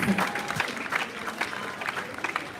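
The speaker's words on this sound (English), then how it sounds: "Let us give Ms. Stone a round of applause again" Students at a school Jamaica Day assembly applaud a speaker, a close, lively patter of many hands clapping unevenly, with a few louder individual claps and murmuring voices underneath.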